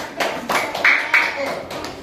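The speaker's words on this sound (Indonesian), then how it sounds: "Tepuk tangan buat kelompok 5" A classroom of students applauds a student group, giving a few short bursts of hand clapping that rise and fall across the moment, close and moderately loud, with voices mixed in among the claps.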